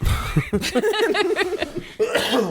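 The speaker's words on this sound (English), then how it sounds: "sorry for the coughing." A few harsh coughs up close, followed by a stretch of voiced, laugh-like sounds and another burst near the end.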